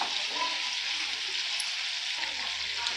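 Pieces of chicken for a maqlooba frying over a low flame in a pan, giving a steady soft sizzle that continues evenly throughout, close and moderately quiet, with no voices.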